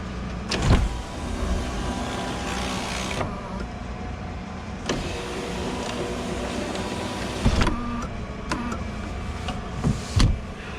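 An electric motor hums steadily inside a 1994 Acura Legend GS as its sunroof moves, with a few sharp clunks and knocks marking stops and starts.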